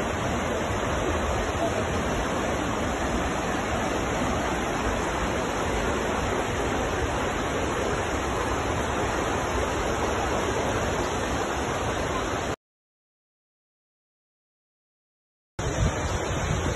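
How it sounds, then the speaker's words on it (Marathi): A waterfall in a valley at Sautada near Patoda, Beed district, Maharashtra, gives a steady, loud broadband rush of falling water that runs unbroken, then cuts out briefly near the end before resuming. "दरीमध्ये असलेला हा धबधबा आणि या धबधब्याचं वाहणारं पाणी"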